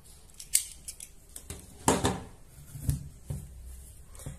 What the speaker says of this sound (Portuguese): Vou cortar o fio.